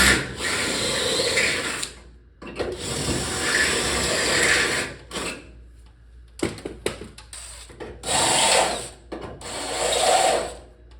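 A power tool opens up holes in welded metal panels in short bursts: a harsh, raspy whir that runs for a couple of seconds, stops, then starts again about five times, with brief silences between.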